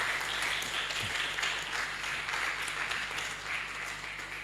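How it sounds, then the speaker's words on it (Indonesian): An audience at the end of a live talk event on religious moderation in the digital era claps steadily throughout, a dense, even wash of applause with no break. "Sekali lagi terima kasih, tepuk tangan untuk kita semuanya."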